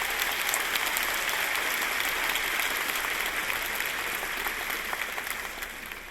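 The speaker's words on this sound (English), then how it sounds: "can we give a round of applause for those people who helped us?" Sustained audience applause at a university faculty convocation ceremony, a dense, steady wash of many hands clapping that holds evenly for several seconds before gradually tapering off near the end.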